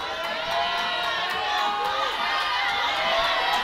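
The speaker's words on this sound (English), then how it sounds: "Some encouragement from the crowd in the back room." A crowd in a back room at the New Zealand Powerlifting Nationals, women's open session, cheers and shouts encouragement to a lifter, a continuous moderately distant roar of mixed voices and whoops.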